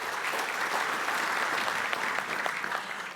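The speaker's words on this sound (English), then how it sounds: "How about a round of applause for Eve?" An awards-ceremony audience at the Ethnic Business Awards applauds a long-serving judging-panel member, a dense, steady wash of many hands clapping that fills the room at even loudness from start to finish.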